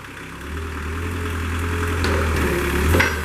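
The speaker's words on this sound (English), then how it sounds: "Hear that Kubota come to life." A Kubota engine on a 2002 Moffett M5000 truck-mounted forklift runs at a steady idle: a continuous, close, fairly loud low hum with a slight rise near the end and no talking.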